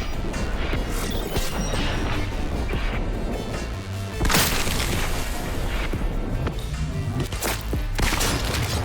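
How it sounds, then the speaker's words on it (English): Grenade blast in Cyberpunk 2077 amid loud combat, a heavy booming crash partway through over continuous clattering gunfire and mechanical noise. "Man, that grenade."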